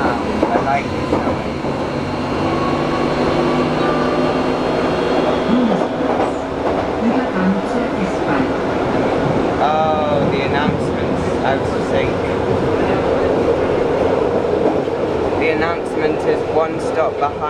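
A Berlin U-Bahn subway train runs with a steady rumble of wheels on rails, rattling carriages and brief squeals from the track, heard from inside the car, with voices now and then over it.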